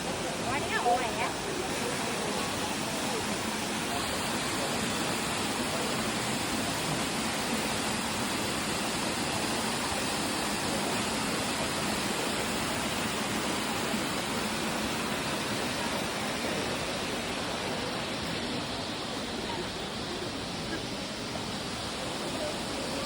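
Minoo waterfall in an Osaka park, a steady, dense rush of falling water roaring continuously and evenly from start to finish, close and loud with no pauses.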